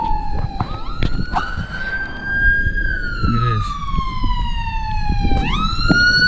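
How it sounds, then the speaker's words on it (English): A loud wailing ambulance siren sweeps up and down nearby on a city street, passing with traffic rumble underneath. "Ambulance,"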